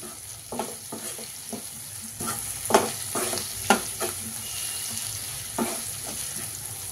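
Capsicum and meal maker soy chunks fry in a pan with a steady sizzle, while a spoon scrapes and stirs in a handful of sharp, irregular strokes close by.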